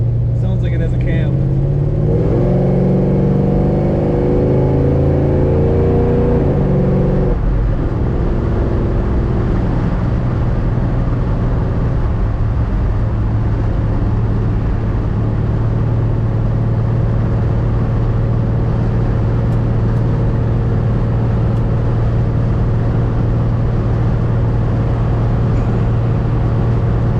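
A 1971 Chevrolet Malibu convertible with a lumpy cammed engine revs briefly, then settles into a loud, steady idle close by, with a deep rumble throughout.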